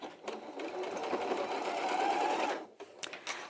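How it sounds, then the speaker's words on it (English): A powerful sewing machine on its free arm stitches the side seams of a faux leather bag, a steady fast whirring run of about two and a half seconds that stops, then a few short bursts follow. "And again, this machine, it's a powerful machine"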